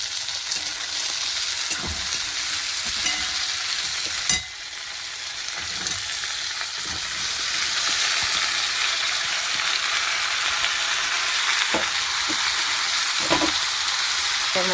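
Malabar spinach (pui shak) mixture sizzles and fries steadily in a hot pan, a continuous bright crackle with occasional stirring knocks, close and alone with no talk.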